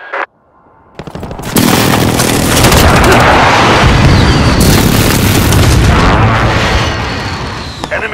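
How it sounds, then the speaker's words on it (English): Precision airstrike explosions in a military shooter video game: a heavy boom erupts after a brief quiet start, then rolls into a loud, sustained wall of blasts and gunfire-like crackle that slowly fades toward the end. "Precision airstrike ready."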